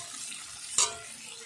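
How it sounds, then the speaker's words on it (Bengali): Spices and ginger-garlic paste sautéing in a pan give a steady close sizzling hiss, with one brief louder scrape or clatter partway through. "বাকি মশলাগুলো যেটুকু আছে সেগুলো দিয়ে আমি কষিয়ে নিচ্ছি"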